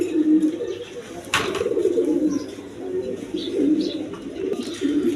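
Pigeons bred for eggs and chicks coo repeatedly in low, throaty phrases at close range, with a brief rustle or flap partway through and faint background noise.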